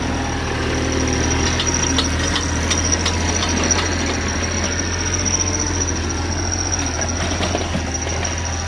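A used 2011 Kubota KX91-3 Super Series 2 excavator, a 3-ton machine, runs with a steady, close diesel drone and a faint high whine. The note stays constant throughout.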